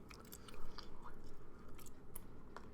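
Gum being chewed close to the mic, with steady wet smacks and soft crunching bites repeating throughout, no talking.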